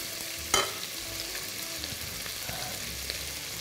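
Bread frying in a pan, a steady close hiss of sizzling oil running throughout, with a sharp clack near the start and faint scraping stirs scattered across it; no one speaks.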